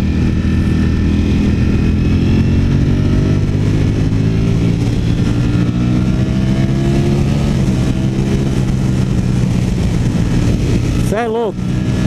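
A Ducati Streetfighter V4S motorcycle engine roars loudly and steadily while being ridden, its pitch slowly climbing under acceleration, with a brief sharp rev near the end and a rider's voice mixed in.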